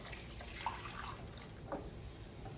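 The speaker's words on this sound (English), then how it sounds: "I add water in there too" Water pours into a cooking pan of simmering hamburger steaks, a faint, soft splash and trickle with a couple of small bursts.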